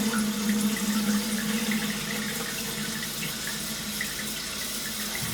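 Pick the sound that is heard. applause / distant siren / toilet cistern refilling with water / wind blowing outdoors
toilet cistern refilling with water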